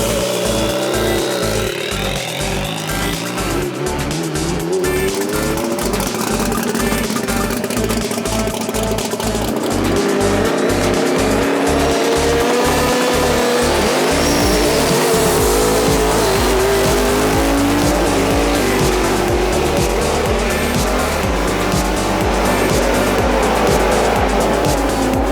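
A gymkhana car at full tilt, loud engine revving and bouncing off the limiter, with tires squealing and skidding through sustained slides, close and continuous.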